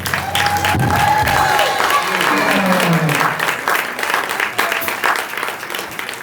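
Audience applause fills a live event with a warm-up band, a dense sustained clapping crowd with some cheering, loud and continuous throughout.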